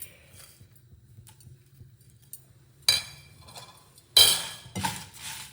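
Red chillies and curry leaves are dry-roasted without oil in a pan for ennai kathirikkai kulambu. After a quiet stretch, two short, close bursts of rattling and scraping sound as the pan contents are stirred.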